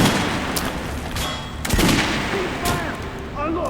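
Gunfire on a shooting range in Metro Last Light, a run of sharp close shots and bursts with booming tails, mixed with game voices and background noise.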